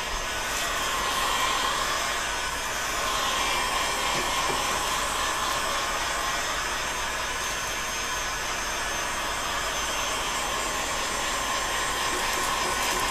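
A heat gun blows hot air down the inside of a PVC pipe, a steady, loud, continuous whooshing roar with a fan-like hum that holds throughout with no talking.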